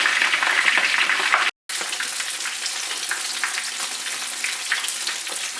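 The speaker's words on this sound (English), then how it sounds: "I'm going to allow the fish to fry" Fish frying in hot oil for a Nigerian red stew gives a steady, close, crackling sizzle. It cuts out briefly for a moment, then continues evenly.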